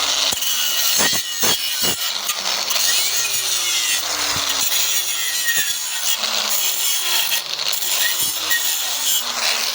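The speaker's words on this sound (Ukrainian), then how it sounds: "Бачу, що болгаркою йде сам процес." A continuous harsh grinding roar from an angle grinder on a Polini scooter muffler, steady and loud throughout, with its pitch dipping and rising as the tool bites.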